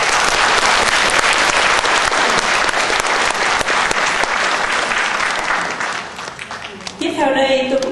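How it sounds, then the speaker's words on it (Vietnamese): Loud, dense crowd applause at a 60th-anniversary literary celebration for a writer and poet, sustained clapping that tapers off toward the end as a voice begins speaking. "Chúng tôi xin quý vị một tràng pháo tay thật lớn để mừng ngày 60 năm của nhà văn nhà thơ Hà Vĩnh Trung."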